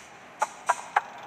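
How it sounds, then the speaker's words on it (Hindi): Pigeon making three short, clipped bird calls at a steady spacing over a quiet background hiss. "कबूतर"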